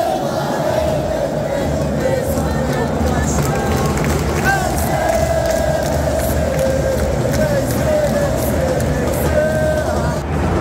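Fluminense fans roar in a stadium during a match against Internacional, a loud, unbroken crowd din with sustained chanting tones swelling and holding throughout.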